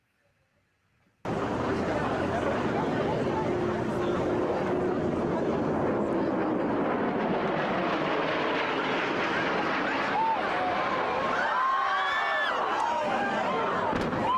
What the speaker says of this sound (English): Hear the airplane coming in there.